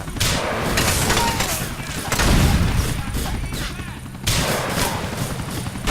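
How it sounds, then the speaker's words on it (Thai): Explosions and gunfire bursts in Grand Theft Auto IV: The Ballad of Gay Tony, loud booming blasts recurring over a few seconds with game noise around them, while a player talks over it. "อืมโอ้โหเป็นระเบิด"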